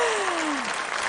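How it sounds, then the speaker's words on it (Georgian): A studio audience on a TV entertainment show briefly applauds a performer in a kangaroo costume: a dense burst of clapping with a gliding tone sliding downward over it. "აბა კენგურუს აპლოდისმენტები"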